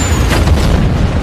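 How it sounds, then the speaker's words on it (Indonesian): A missile explosion in an action film: a loud, sustained, broad roaring boom with a deep rumble that fills the whole moment. "Ledakan rudal tadi membuat asap yang begitu tebal"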